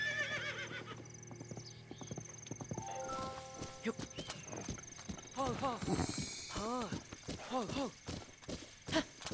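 Horse hooves clip-clopping and several neighs and whinnies from a mount in the game Zelda: Breath of the Wild, the whinnies rising and falling in bursts over steady trotting, with someone talking over it throughout.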